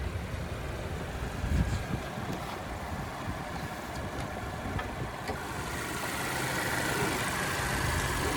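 A 2021 Subaru Forester Touring's 2.5-liter naturally aspirated boxer engine idles steadily with a low, even hum and broadband rumble, heard close up from the open engine bay.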